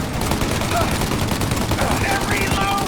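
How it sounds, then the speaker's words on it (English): Sustained gunfire in a Mafia: Definitive Edition shootout: dense, continuous cracking shots that stay loud and close throughout, with no pause. "Shoot out their gun when there's a break in the fire!"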